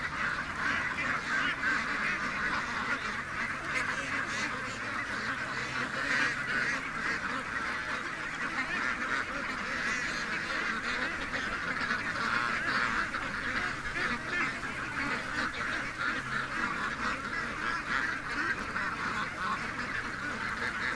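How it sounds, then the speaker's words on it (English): A goose with a broken wing honks repeatedly near ducks being let out, a dense run of nasal honks and quacks at moderate distance that continues steadily throughout. "Okay, we got a goose, guys."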